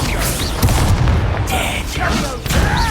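Loud booming blasts of the Confringo spell in Hogwarts Legacy, explosive bursts rolling one after another close up amid combat, with voices talking over the noise.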